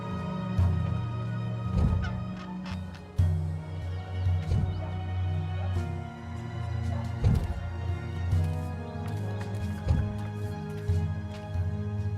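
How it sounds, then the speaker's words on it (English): A talking bird in the video game Dreamfall Chapters lets out repeated loud, honking squawks, harsh and close, coming in an irregular series without any speech. "God's damn talking bird."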